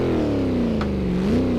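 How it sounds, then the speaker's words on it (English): A Shelby Cobra engine in the Assetto Corsa racing game on the Monza circuit, using placeholder sounds, drones loudly and steadily, its pitch sagging slightly before rising again in a short rev. "the sounds are temporary. So they're using some publicly available sounds for the car."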